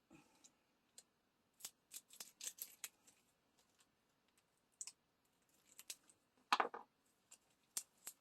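Scissors snipping through paper up close during a diamond painting craft, a scattered series of short crisp cuts with quiet pauses between them, no talk.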